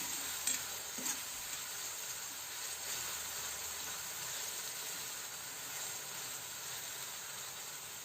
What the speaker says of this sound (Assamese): আকৌ লৰাই থাকিব লাগিব।